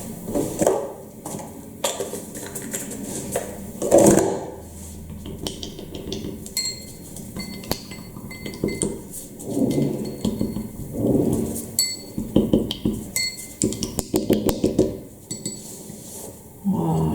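Paint being stirred and mixed in small cups gives off light, scattered clinks and scraping taps, some in quick runs and some in isolated knocks, close by with no talking.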